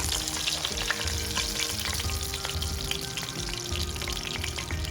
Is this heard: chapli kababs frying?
yes